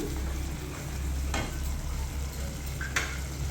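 Chilli powder masala sautéing in a pan gives a steady low sizzle with a couple of brief scraping stirs, close and continuous, with no voices.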